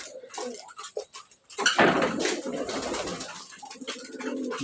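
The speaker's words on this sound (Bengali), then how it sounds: "আমার যে লাল বোম্বাই কবুতর আছে" Red Bombay pigeons coo in soft repeated throaty calls, then a louder burst of overlapping coos and wing or body rustle, with light clinks of metal in the background.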